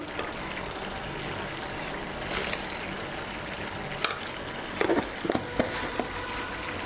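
A spoon stirs sugar into bottle gourd and poppy seed curry in a pan, with a soft, steady sizzle, faint scraping and a few light clinks, no talking.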